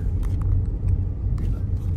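Motor tricycle passing close by on a village road in the Philippines, a steady low engine rumble throughout the short stretch, with faint background noise and no clear talk over it.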